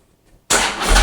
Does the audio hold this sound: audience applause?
no